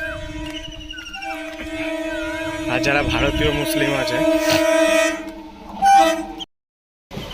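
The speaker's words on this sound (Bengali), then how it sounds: "ট্রেনটা চলে গেল" A train rumbles past with long sustained horn tones and metallic squealing, loud and close, before cutting off abruptly.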